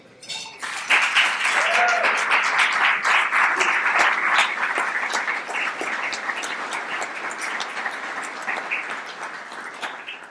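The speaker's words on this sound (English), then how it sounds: "please stand so we can get a quick round of applause" A standing crowd at a chamber of commerce thank-you luncheon breaks into loud, dense applause that swells quickly, stays strong and gradually tapers, with a brief voice and faint clinks of dishes at the start.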